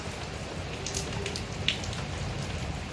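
Heavy rain pours down during a close thunderstorm in Greece, a dense, constant hiss of drops drumming on surfaces with a few sharper individual splashes and no voices.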